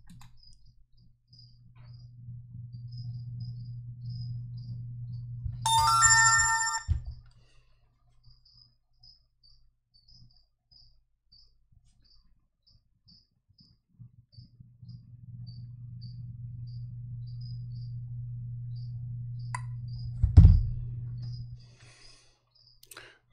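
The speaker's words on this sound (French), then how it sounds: "Désolé pour les petites sonneries de portable." A short electronic phone ringtone chimes briefly amid faint, regularly repeating high beeps and a soft low hum.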